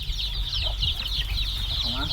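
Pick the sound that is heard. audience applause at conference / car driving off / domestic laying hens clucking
domestic laying hens clucking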